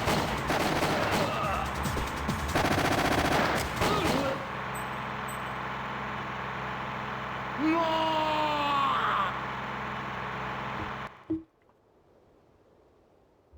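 Gunfire in the N64 game Winback, with sharp shots and bursts heard under talk, then a stretch of game sound before an abrupt cut near the end.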